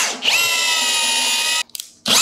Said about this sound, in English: I'm just gonna drill through and I'm gonna add a couple of courtesy screws